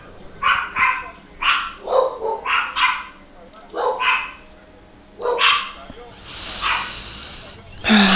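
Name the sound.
dogs barking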